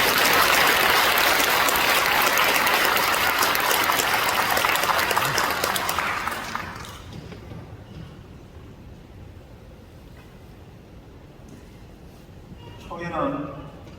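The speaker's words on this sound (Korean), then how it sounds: "응원의 박수로, 격려의 박수로, 축복의 박수로 맞이하겠습니다" A church congregation at an anniversary service claps loudly and steadily to welcome a pastor, then the applause fades after several seconds into quiet room noise, with a voice briefly at the end.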